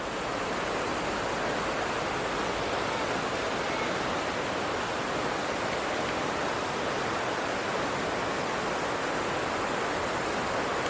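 Steady rushing water from the Prut River flowing near a suspension bridge in Mykulychyn, a continuous broadband wash with no voices.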